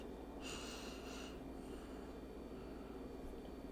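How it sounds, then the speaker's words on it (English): A person with the left nostril plugged takes one short, close, sharp sniff through the other nostril during a quiet cranial nerve smell test, followed by faint quiet breathing. "I want you to take a sniff."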